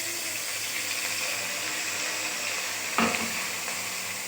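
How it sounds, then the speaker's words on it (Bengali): Gobindobhog rice tipped into hot oil with cumin in a pan gives a steady close sizzle, with a brief louder burst of crackling as the grains hit, then frying settles back to an even hiss. "এবার আমি গোবিন্দভোগ চালটা দিয়ে দেবো।"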